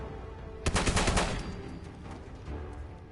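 Rapid automatic gunfire from the player's gun in Fallout 4, a loud burst of shots lasting about half a second, then fading echo and low game ambience.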